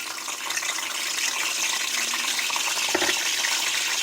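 Bay leaf and tomato drop into hot oil and produce a continuous loud hissing sizzle, with a brief low thud near the end, close up and with no talking.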